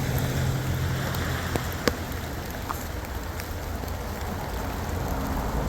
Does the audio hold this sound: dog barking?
no